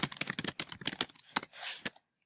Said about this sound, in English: I don't know why I keep typing